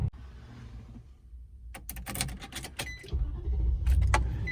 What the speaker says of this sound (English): Let's go ahead and turn on the car, make sure we get a good start.